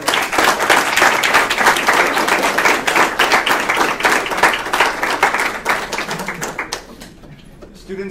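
A room of guests claps for students in a sustained burst of applause that is full at first, then tapers and dies away in the last seconds, with some voices underneath.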